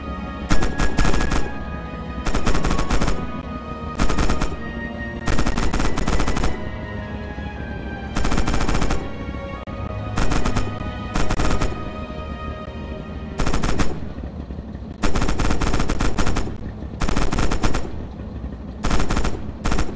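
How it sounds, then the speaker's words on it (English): Tank hull machine gun in Red Orchestra 2: Heroes of Stalingrad fires loud, close, rapid automatic bursts, each lasting one to two seconds and separated by short pauses, repeating about nine times with no talk. "Use the hull MG and open fire on the targets."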